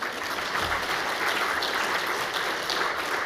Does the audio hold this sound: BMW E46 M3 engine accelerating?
no